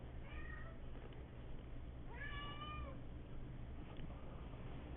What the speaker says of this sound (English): Hopefully y'all don't hear my cat yelling in the background.